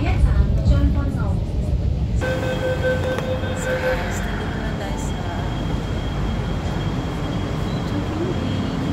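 A train in Hong Kong passes with a rumbling, rushing roar after a brief quieter start with faint chatter. The noise holds loud and steady to the end, with voices murmuring underneath.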